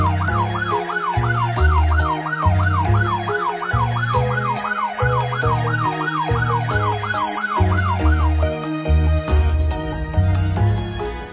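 A cartoon ambulance siren wails in a fast, repeating rise-and-fall pattern over a steady music bed, loud and continuous before dropping away near the end.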